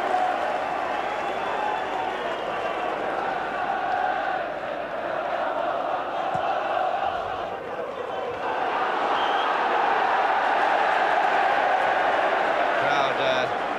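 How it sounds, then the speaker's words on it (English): Football stadium crowd at Nottingham Forest v Manchester United applauding ironically, a sustained roar of clapping and cheering that dips briefly and then swells again, with a commentator talking over it. "Crowd ironically applauding the fact that this free kick has gone to Forrest."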